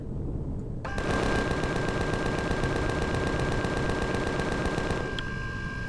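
Rapid automatic gunfire in Empyrion Galactic Survival rattles continuously for about four seconds at an alien bug, a loud even stream of shots that starts abruptly and stops, with no talk over it.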